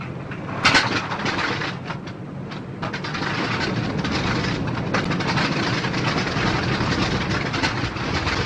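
Aircraft engines drone in a 1952 film scene, a steady, dense rumble running throughout with a louder burst near the start.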